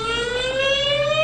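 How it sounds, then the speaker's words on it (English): A loud, steady coastal tsunami warning siren in a low-lying area wails continuously, its tone holding steady and rich with overtones. "These 15 sirens, all at low-lying areas, would warn the public of an imminent threat."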